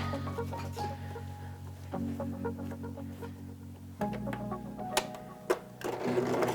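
A sewing machine running a straight stitch through duck fabric for a handmade doll, a steady close mechanical whirring hum that shifts pace in a few bursts, with sharper clicks near the end and no talking.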